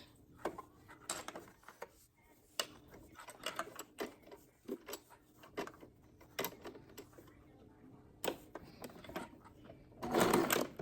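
Short, intermittent bursts of a home sewing machine stitching and back-stitching the side of fabric baby bummies, separated by quiet pauses and small handling clicks, with a longer, louder run near the end.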